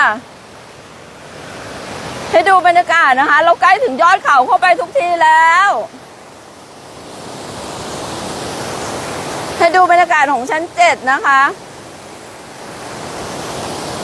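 Steady broadband rush of water at the seventh tier of Nine-tier Waterfall, a steep cascade in Suan Phueng, Ratchaburi, heard close and constant throughout, with someone talking in two bursts over it.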